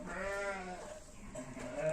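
Sheep in a new barn sized for about 150 animals call out, one quavering bleat followed by a second rising one at close range, with soft shuffling of the flock underneath.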